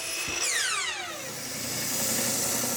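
A drill spins up and bores into a wooden bracket for a table saw, its pitch sweeping downward as the bit slows into the wood, then settling into a steady grinding hum.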